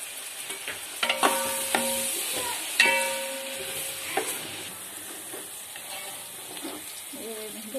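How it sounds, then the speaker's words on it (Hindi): Three medium chopped onions frying in a pan for chicken biryani, a soft steady sizzle with several sharp clanks and scrapes of a spoon stirring early on, then quieter frying with light movement. "देखिए अभी प्याज थोड़ी देर में गर्म होने वाले हैं।"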